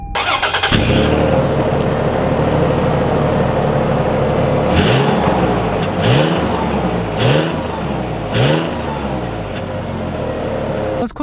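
A 2021 Toyota 4Runner TRD Off-Road starts up and pulls away, engine catching then accelerating through several rising revs as it shifts, loud and close inside the cabin.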